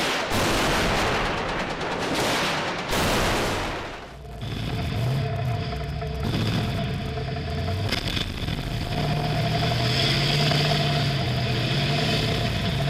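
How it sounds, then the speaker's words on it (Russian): Tanks firing from a city square in Jobar, Syria: heavy bursts of gunfire crack out loud at the start, followed by a steady rumble of idling tank engines with scattered distant shots. "пока остальные танки бьют врага с площади"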